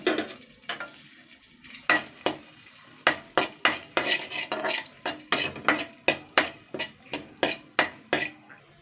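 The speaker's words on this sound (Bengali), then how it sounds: "শুকনো লঙ্কাগুলো একটু হালকা আর একটু হালকা পুড়িয়ে নেবো আর লালচে লালচে করে ভেজে নেব" Dried red chillies fry in refined oil in a wok, with a faint sizzle beneath a run of sharp, rhythmic spatula scrapes and knocks against the pan, close and fairly loud.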